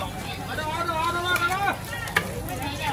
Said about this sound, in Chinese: 这家煎做火勺和烧麦